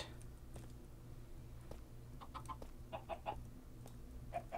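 Chickens in a blocky building game cluck in short, scattered bursts over a low steady hum, a few sharp clucks clustering toward the end, fairly quiet and close.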